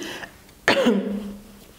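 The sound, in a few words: cough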